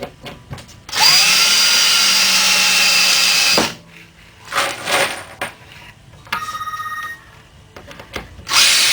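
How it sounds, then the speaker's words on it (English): A phone ringtone sounds with a steady repeating electronic trill around a chair assembly workspace, following a loud power drill burst; the ring is clear and close with no talk over it. "My phone is ringing."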